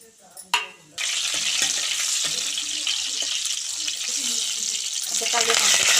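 Cumin seeds and dried red chilies tempering in hot oil for a lentil and bottle gourd dal, a sudden loud hiss bursting in after a couple of clinks and holding as a dense, steady sizzle close by.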